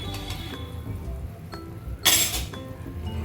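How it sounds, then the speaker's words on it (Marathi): A metal spoon stirs coconut rice in a boiling pot on a home stove. A few clinking scrapes against the pot sound close and fairly quiet over the low bubbling, with one brighter knock standing out partway through. "व्यवस्थित हलवून घेते मी"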